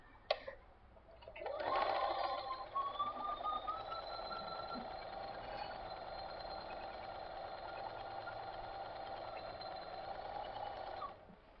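A sewing machine runs steadily for about ten seconds, stitching a large curved king-size quilt border piece together, with a brief clatter as it starts and a sustained whir close by; no one speaks.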